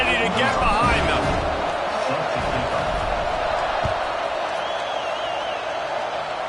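Stadium crowd noise in the College Football 26 video game, a steady broad roar of a large crowd with scattered cheers and whoops. It holds fairly loud throughout, with some voices mixed in.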